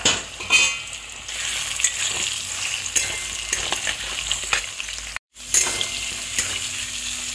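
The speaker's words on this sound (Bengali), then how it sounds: "একটু ভেজে নিলে ভালো হয় সোয়াবিনগুলো" Potatoes and soybean chunks sizzle and crackle in hot oil, with occasional scraping stirs of a spatula against the pan.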